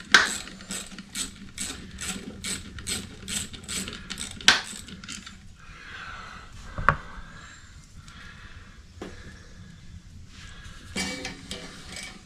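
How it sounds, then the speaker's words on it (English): A ratchet wrench clicks in fast, even bursts while loosening bolts on the starter of a Toro Personal Pace 22-inch self-propelled electric-start mower, then lighter metallic taps and tool handling follow, close up. "We'll come under here and loosen this one."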